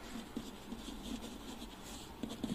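Geometry working about an isosceles triangle being written down, soft pen or pencil strokes scratching in short taps on paper, faint and close.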